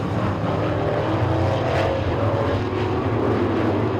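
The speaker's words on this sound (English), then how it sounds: "They're on the gas down the main straightaway." Late model sportsman race cars accelerate down the main straightaway of a short track on a Saturday night, a loud sustained engine roar that holds steady and swells slightly mid-way, with no talk.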